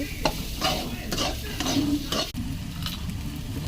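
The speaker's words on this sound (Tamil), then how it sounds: "சிம்மிலே வச்சுட்டு இது கிளறிக்கிட்டே இருக்கணும்" Baby potato pepper fry masala is stirred in a pan over low heat, with repeated scraping strokes of a spoon over a soft, steady sizzle, close and moderately loud, with no voices.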